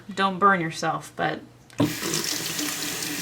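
Water runs from a tap over a layer of wool, soaked in warm to hot water. A steady broadband rush starts partway through and continues to the end, loud and close, after a short stretch of speech.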